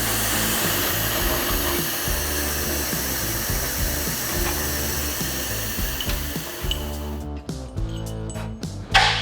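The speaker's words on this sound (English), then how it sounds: "I'm gonna take it over here to the bandsaw. We're gonna get the back plate cut and then the rod cut." A bandsaw cuts through the metal back plate of a floating shelf, a steady loud machine whine with grinding that runs continuously, then breaks into short bursts and clicks near the end.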